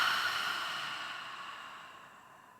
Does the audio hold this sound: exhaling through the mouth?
yes